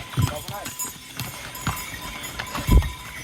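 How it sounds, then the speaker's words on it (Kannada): Mules, donkey-horse hybrids on the Kedarnath mountain trek, clop along with a few hoof strikes, the loudest near the end, under people talking. "ಇದೊಂಥರನೇ ಬೇರೆ ಬ್ರೀಡ್ ಇದು, ಡಾಂಕಿ ಮತ್ತು ಹಾರ್ಸ್ ಮಿಕ್ಸ್ ಹೈಬ್ರಿಡ್ ಮಾಡಲ್ಲು"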